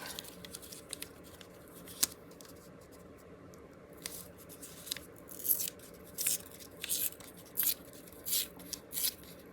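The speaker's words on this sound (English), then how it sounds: "I'm just gonna tear a little bit of this off." Old coffee-dyed paper is torn in several short, dry ripping bursts that come closer together toward the end, close and fairly quiet against a faint room hiss.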